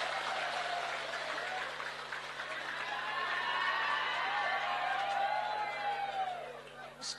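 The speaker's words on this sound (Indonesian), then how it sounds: "Tepuk tangan dulu dong." Faint, distant applause from an audience at a morning Islamic study lecture, a steady wash of scattered clapping lasting several seconds without clear voices on top.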